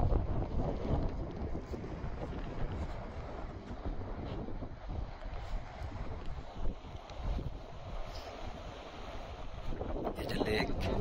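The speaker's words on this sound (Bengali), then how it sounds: "এখানে আবার বাতাসটা মাথায় লাগে" Wind gusting across a hillside lake fed by clouds drifting along the hills, a steady rushing buffet on the microphone throughout, with a voice talking over it.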